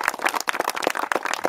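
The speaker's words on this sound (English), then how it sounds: "I think they deserve a round of applause." A crowd applauds the volunteer builders at the official opening of a model flying club clubhouse, a dense, steady patter of many hands clapping close by, with no break across the short burst.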